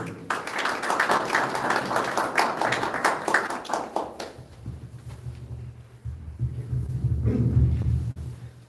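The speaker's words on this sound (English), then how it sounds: "Please have a round of applause for him" An audience at a British Pakistani Professional Association gathering claps for a guest for about four seconds, a dense patter of hands that stops abruptly, leaving a low hum and muffled room noise.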